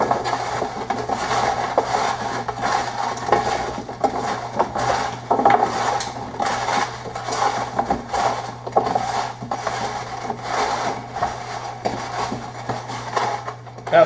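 Root vegetables, sunchokes and mushrooms tossed in a bowl to coat them, giving a steady run of soft rubbing, clattering scrapes close by with a low constant hum underneath and no talking.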